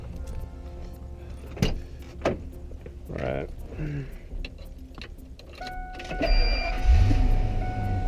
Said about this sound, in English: gonna start the engine first